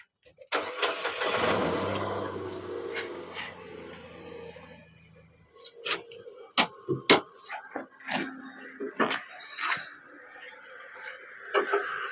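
A 2014 Nissan Micra XV petrol car with about 70,000 km starts up, and its engine runs steadily for roughly five seconds before fading. A series of sharp clicks and thumps follows, close by and with no talk.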